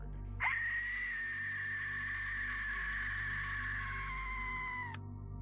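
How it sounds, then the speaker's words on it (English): An Aztec death whistle gives a single long, shrill, piercing screech that holds steady for about four seconds, then sags slightly in pitch before cutting off sharply. "sinister old whistle once used by the Aztecs for sacrificial purposes"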